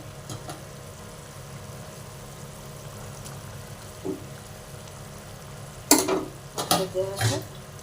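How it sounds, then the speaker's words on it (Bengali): Fish pieces go into a pan for a fennel fish curry one by one over a low sizzle, followed near the end by louder bursts of scraping and crackling. "মাছটা দিয়ে দিচ্ছি আস্তে আস্তে করে মাছটাকে দিয়ে দিচ্ছি"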